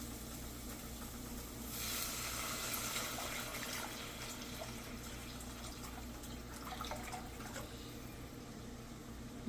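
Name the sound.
water poured into pot for ramen broth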